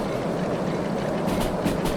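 Steam locomotive S060 in Derail Valley working under load, giving a steady rumbling hiss with faint rhythmic chuffing bursts toward the end, continuous and fairly close.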